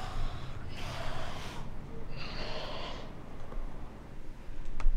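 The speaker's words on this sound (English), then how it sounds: "My apologies for the yawning" A person yawning, two long breathy exhalations a second apart, close and fairly loud over a low background hum from an XCOM 2 game session.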